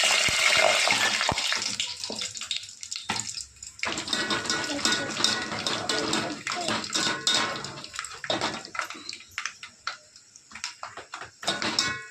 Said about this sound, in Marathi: शेंगदाणे तळत आहेत.